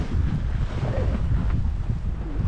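Wind roars steadily past a sailing boat at sea, buffeting the microphone with a dense, low rumble that fills the whole stretch without any voices.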